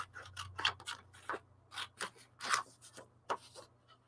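Scissors snip through napkin paper in a quick irregular series of short crisp cuts, close and fairly quiet, with a faint steady hum underneath.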